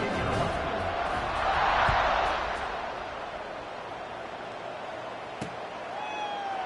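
Stadium crowd noise from a college football video game, Nebraska against an FCS side, a steady broad roar that swells briefly before settling into a sustained background hum, with a sharp thud and a faint whistle-like tone near the end.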